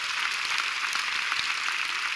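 A church congregation claps steadily and loudly together, a dense sustained wash of applause with no pauses.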